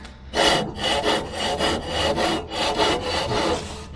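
Dry bearings on a broken-down ride-on mower that sat outside for five years spin with a harsh, rhythmic scraping grind, repeating in even pulses every half second or so, close and loud with no talk.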